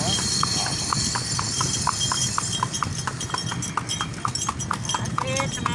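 Hooves of a horse pulling a delman cart through Kuningan clip-clop in a steady, even trot, with a cart rattle and voices talking over the rhythm.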